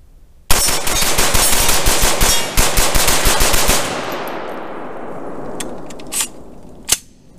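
A Palmetto State Armory KS-47 gen 2 rifle fires a rapid string of loud, close shots in quick succession, then echoes decay into a quieter tail with two more isolated sharp reports.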